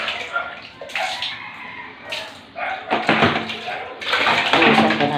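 Water runs and splashes in bursts outdoors on a morning, pouring loudly in stretches with a few knocks and clatters between, while a voice speaks briefly.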